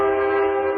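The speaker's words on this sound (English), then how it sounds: "The sound of a train whistle." A train whistle blows near the ballpark in Clinton during a minor-league baseball game, a sustained, steady horn tone held loud and close, with no talk over it.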